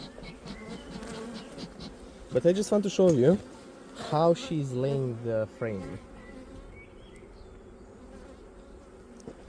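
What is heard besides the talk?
honey bees buzzing around hive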